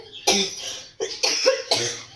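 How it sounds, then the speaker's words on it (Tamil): Four harsh coughs in quick succession, close and fairly loud, with short pauses between them. "இருமல் வேற நிற்கவே மாட்டேது."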